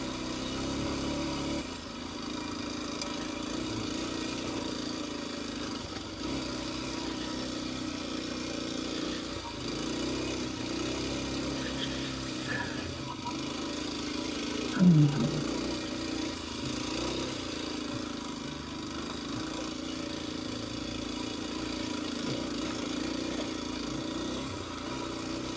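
Kawasaki KLX230S motorcycle rides a forest road on a trail, its engine running at a steady mid-pitched drone for the whole stretch, with one brief louder bump near the middle.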